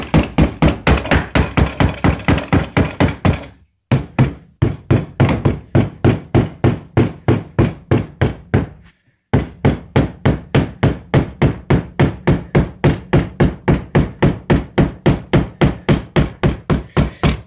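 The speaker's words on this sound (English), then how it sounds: "So you could just sit here pounding away on your mold." A hammer pounds steadily on a concrete mold in rapid, even blows, with two brief pauses, loud and close, producing a sharp repetitive knocking.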